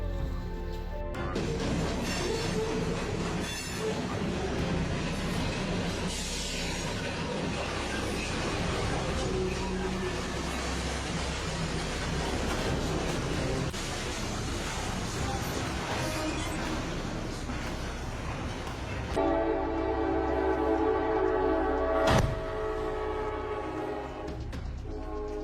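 A train roars along the tracks toward a vehicle stopped on the crossing, with a loud, continuous rumble and horn, then a change in sound and a sharp impact-like burst near the end.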